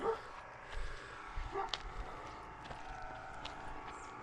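Dogs at a tent campground give a few short, scattered yips and barks at moderate distance over a steady outdoor background.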